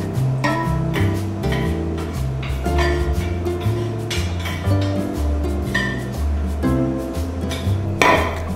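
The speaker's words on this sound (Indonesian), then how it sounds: "Dan kita aduk menggunakan spatula sampai benar-benar tercampur rata" A spatula scrapes and knocks against a mixing bowl while risen dough is stirred together with Royal Crown butter substitute. The close, rhythmic clatter and ringing clinks repeat steadily, with a brighter scrape near the end.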